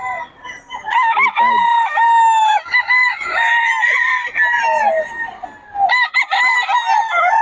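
A rooster crows repeatedly, loud and close, with clucking fowl mixed in and people chatting among birds for sale in a Filipino market setting.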